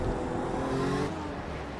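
Race car engine heard from on board at Circuit de Spa-Francorchamps in a racing video game, a steady loud drone with a pitch shift partway through, then slightly softer, with no talk.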